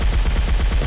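Rapid video game gunfire in a multiplayer shooter, loud and continuous, a dense stream of bass-heavy shots filling the whole second with no pauses and no voices.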